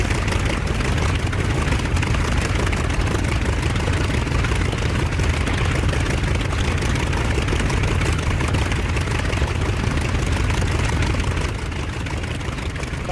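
A propeller aircraft engine run-up in the DCS flight simulator game, heard as a continuous, dense, loud drone with a steady low rumble throughout and a slight drop near the end.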